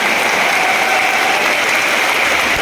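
An audience applauds student projects at a motivational success seminar, a dense, continuous roar of clapping from a large crowd that holds steady throughout, with no talking.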